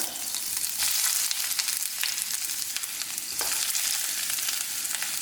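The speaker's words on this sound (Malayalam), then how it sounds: "ഞാനിനി ഇതിലേക്ക് സവാള മുറിച്ചത് ചേർത്ത് കൊടുക്കുകയാണ്" Sliced onions hitting hot coconut oil and frying, a loud continuous sizzle with bursts of stirring, alone with no voices.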